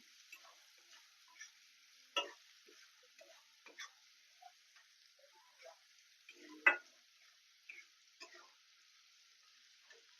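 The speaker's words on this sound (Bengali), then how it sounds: "চিনিটা দিয়ে আমি একটু নেড়ে নিচ্ছি" Sugar being stirred into sago pulao (sabur polao) in a pan: soft, scattered spoon scrapes and taps with one louder knock, faint and close, over a quiet background hiss.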